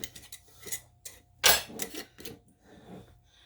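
A lid set onto a slow cooker, a few light clinks and clatters of metal and glass, with one sharper clack near the middle, close and alone in a quiet kitchen.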